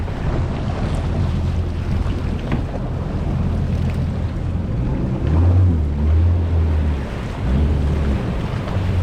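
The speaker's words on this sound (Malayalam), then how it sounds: "ഇവിടെയാണ് ശരിക്കും ആൾക്കാരൊക്കെ പിന്നെ ജെറ്റ്സ്കിയൊക്കെ ചെയ്യാൻ വേണ്ടി വരുന്നത്" Jet skis run on the sea near the Burj Al Arab in Dubai, with a low engine drone that swells midway over steady surf and heavy wind buffeting the microphone.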